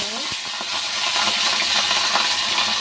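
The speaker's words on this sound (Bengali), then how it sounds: "কড়া তেলটাও হয়ে গেছে মাছটা ছাড়বো" Fish frying in hot oil in a wok, a steady loud hiss and sizzle running throughout with a few small clicks and pops near the start.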